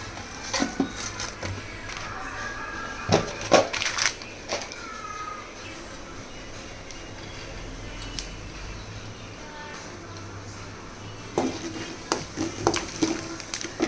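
Fennel seeds and cumin sizzle and fry in a pan for mutton curry, with occasional stirring clatter, continuous throughout, with a few sharper scrapes near the start and end.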